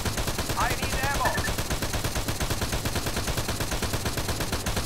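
Sustained rapid gunfire in the Arma 3 mod Antistasi, dense bursts of automatic weapons cracking continuously at close range, with a brief voice heard through the shooting.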